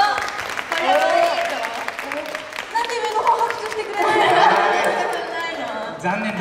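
Crowd clapping at a Christmas tree lighting ceremony in Kashima, used as an audience vote, mixed with lively chatter and voices from the gathered people throughout.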